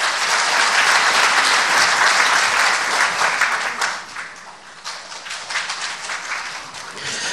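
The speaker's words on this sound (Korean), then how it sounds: "박수로 모시겠습니다." Hall audience applauding at a public constitutional amendment debate forum in Daejeon, a loud, dense wave of clapping that gradually thins and softens toward the end.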